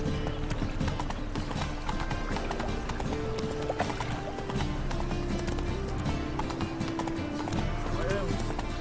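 The horse Roach gallops in The Witcher 3 video game, its rhythmic clip-clop hoofbeats running continuously and fairly loud beneath game music, with voices talking over them.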